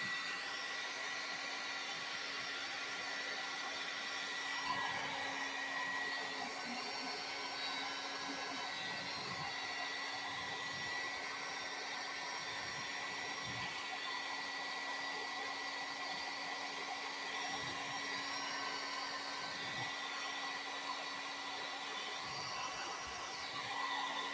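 A heat gun blows hot air while a Gorilla Whip is fitted to a four-wheeler ATV. The close, loud, steady whooshing roar runs unbroken for the whole stretch, with no talking.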